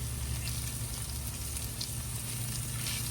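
Salmon and swai fish fillets pan frying in butter give a steady, close sizzle and crackle that holds at an even level throughout, with no voices.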